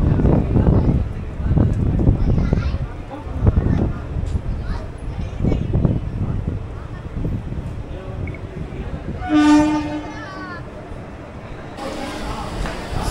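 Passenger train running from Kolkata to Digha, a steady rumble of the carriage throughout with people talking over it, a brief tonal horn-like sound near the middle and a hiss toward the end.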